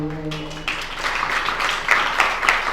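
A devotional gathering's audience breaks into applause for a singer as a sustained sung note fades, the clapping building into a moderate, steady patter with a few louder peaks.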